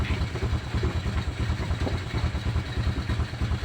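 A motorcycle engine runs at idle close by, a steady rhythmic chugging pulse with light mechanical clatter, alone without talk.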